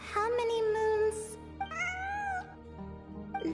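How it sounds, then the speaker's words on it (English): A cat meows repeatedly in Genshin Impact, several drawn-out tonal cries close by with short pauses between them, no talking over them. "It really is a cat."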